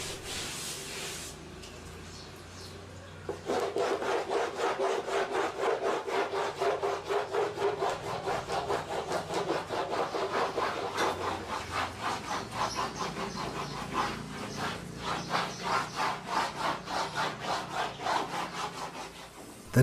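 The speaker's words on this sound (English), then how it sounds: "placed on a smooth surface, dampened, and rubbed hard with a stone to create a polished surface" A dampened thangka fabric stretched in its frame is rubbed hard with a stone, producing a steady, close, rhythmic rasping scrub of quick back-and-forth strokes that continues for most of the clip after a quiet start.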